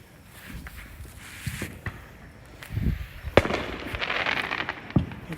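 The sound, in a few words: fireworks exploding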